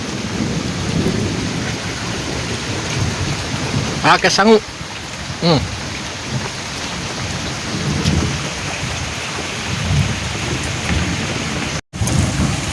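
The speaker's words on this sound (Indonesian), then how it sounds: "Terus suasananya lagi hujan. Hujannya gede banget, guguludugan tambah petir." Heavy rain pours steadily at dusk, with thunder rumbling through it and a louder crack of thunder in the middle; a person speaks briefly over the downpour.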